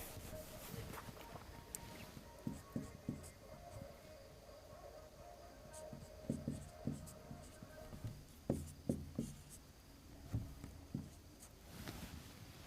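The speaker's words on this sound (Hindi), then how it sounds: "तो आइए लिखते हैं इसको" A pen writes a physics formula by hand, giving soft scratchy strokes in short irregular bursts with pauses between, faint and close.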